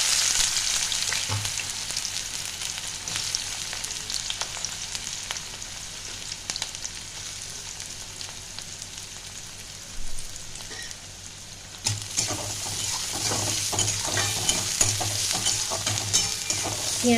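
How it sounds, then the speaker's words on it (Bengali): Chopped onions fry with black cumin in a pan for potol bharta, a dense continuous sizzle with repeated scraping stirs by a spatula, close and fairly loud, pausing briefly before the frying noise swells again. "কালো জিরেটা যখন একটা ভালো গন্ধ আসবে তখন দিয়ে দেবো পেঁয়াজ কুচনোগুলো"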